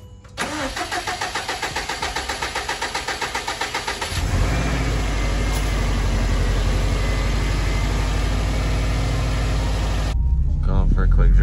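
A 2007 Subaru Impreza WRX STi cranks with a rapid, rhythmic starter churn for about four seconds, then catches and settles into a loud, steady idle nearby that rises slightly toward the end.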